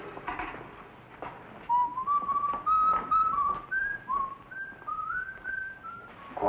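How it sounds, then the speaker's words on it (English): A man whistles an old song on an upper-berth sleeper at night, a clear melodic tune of held and sliding notes, fairly close and alone, with faint breathy puffs before it begins. "And he's whistling all night. Old songs."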